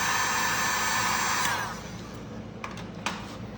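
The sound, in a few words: heat gun heating vinyl wrap on Jeep Cherokee door handle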